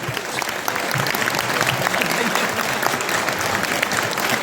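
A poetry gathering (kavi sammelan) audience at a Swadeshi fair in Surajgarh breaks into dense, sustained applause, loud and continuous with no gaps.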